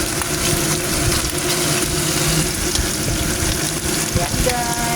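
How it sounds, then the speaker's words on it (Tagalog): Barbecue skewers sizzle steadily in a frying pan (kawali), a dense continuous crackle of hot oil with occasional brief pops, close and loud throughout. "Nakakamiss kasi ito mag-barbecue ako sa Kawali."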